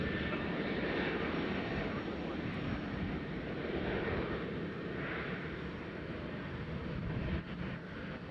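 A Prime Air cargo jet taxis at Nashville airport, a steady loud broadband engine roar close by that barely changes throughout, easing slightly near the end.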